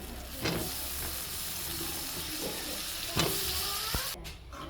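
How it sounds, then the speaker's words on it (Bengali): Radish pieces stirred into a spice paste frying in a pan for a fish and radish curry: a steady, close sizzle with scraping stir strokes and occasional louder spatters, with no talking. "এখন দিয়ে দেবো মূলাগুলো"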